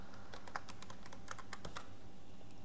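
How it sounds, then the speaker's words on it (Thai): Keys on a computer keyboard are tapped in a quick, irregular burst of light clicks while a password is entered, heard close up with a faint background hum and no talking. "ผมจะพิมพ์นะครับพิมพ์เล็กพิมพ์ใหญ่และตัวอักษรพิเศษด้วยนะครับ"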